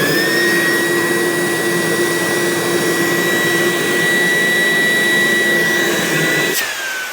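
A Roidmi P1 Pro cordless handheld vacuum runs with a loud, steady motor whine and airflow rush, then powers down abruptly near the end, the pitch dropping away.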